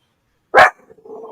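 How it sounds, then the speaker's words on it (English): A single loud, close dog bark bursts out alone, followed by a few faint, low trailing sounds as it fades. "Oh, you got a dog."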